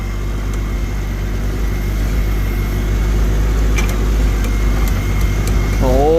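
A tractor engine at a plow day run in second gear at about three-quarter throttle, producing a loud, steady low drone from close by with faint clicks near the end while a person talks.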